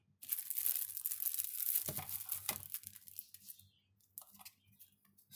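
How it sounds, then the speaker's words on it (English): A small TV box remote pulled from its plastic packaging, with close crinkling and tearing of plastic for a few seconds before it tapers into quieter rustles. "this is the remote, so let me take it out of its plastic casing"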